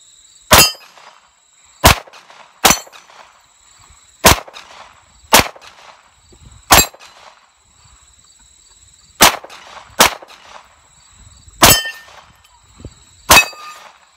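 A Browning FN Hi Power pistol firing at outdoor steel plates: about ten sharp, loud shots spaced irregularly over several seconds, each followed by a ringing metallic clang from the struck steel.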